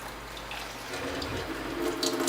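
A thin trickle of tap water runs steadily over a hard-boiled egg in a sink, a soft, faint continuous splash that grows slightly brighter near the end.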